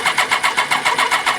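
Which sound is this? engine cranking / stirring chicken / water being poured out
engine cranking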